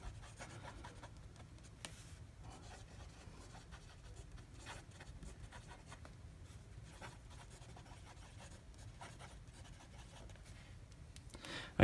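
Broad-nibbed Lamy All-Star fountain pen writing on Baron Fig notebook paper with a bit of tooth, giving a soft, steady scratchy rasp of nib strokes close up, quiet and continuous with brief pauses between words.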